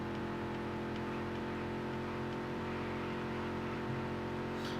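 A stock car engine in the NASCAR Dirt to Daytona racing game drones steadily at constant revs, a continuous moderately loud hum with no break throughout.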